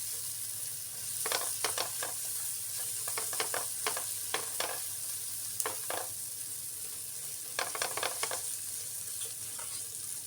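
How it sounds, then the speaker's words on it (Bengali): Fish curry masala sautéed for a fish bhuna in a pan: a steady close sizzle with short bursts of spoon-stirring scrapes and clacks recurring throughout. "ভালো করে কষিয়ে নিচ্ছি।"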